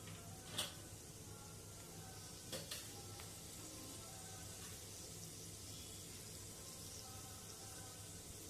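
Chana dal and urad dal sizzling in a tablespoon of hot oil with mustard seeds, a steady quiet frying hiss throughout with a couple of brief sharper crackles near the start.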